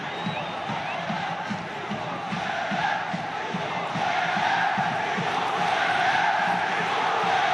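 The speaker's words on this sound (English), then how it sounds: "Words not needed, just listen to the noise inside this stadium." A football stadium crowd at an Al Nassr versus Damac match roars continuously, with rhythmic clapping and chanting beneath a dense wall of noise that grows louder midway.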